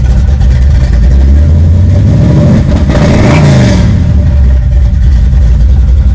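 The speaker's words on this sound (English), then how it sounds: "Car sounds awesome." A 1985 Buick Regal engine revs loudly up close, climbing in pitch through a sweeping rev before settling back toward idle under a steady roar.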